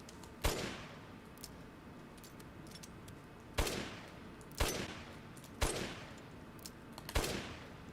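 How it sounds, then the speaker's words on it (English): Heavy hand cannon shots boom one at a time in the video game Resident Evil 8, five sharp blasts spaced a second or two apart, each with a short decaying tail over a quiet background. "Hand cannon."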